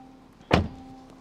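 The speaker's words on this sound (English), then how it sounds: "Let me shut that door." A door of a 2023 Range Rover Sport D300 Dynamic SE shutting, a single short solid thud in a quiet cabin, with a faint steady hum before and after.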